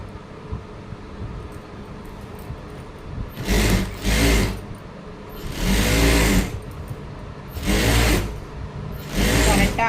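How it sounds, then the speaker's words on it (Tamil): Sewing machine stitching a fabric sleeve in four loud bursts of rapid whirring, each about a second long, separated by quieter pauses and faint background noise. "இப்போ தைச்சி எடுத்துக்கலாம்."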